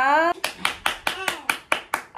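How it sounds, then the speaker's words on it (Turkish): A child claps hands at home, about nine quick, evenly spaced claps in a rapid rhythm, close and clear, following a brief spoken word. "Alkış hala."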